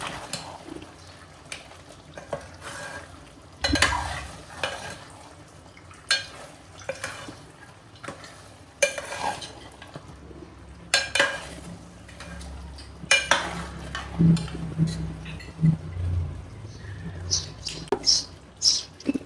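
Mutton curry being stirred and mixed in a pan: repeated scraping and clinking of a utensil against metal with soft wet squishing, fairly close, in irregular bursts with quiet gaps between.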